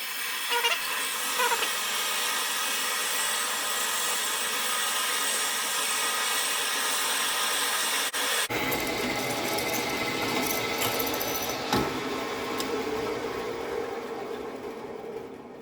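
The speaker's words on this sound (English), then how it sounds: "Let the drill bit actually do the cutting." A drill bit bores a hole in metal for a hammer, with a drop of oil on the bit. The steady, close-up whirring cutting sound runs throughout and grows rougher and busier in the second half.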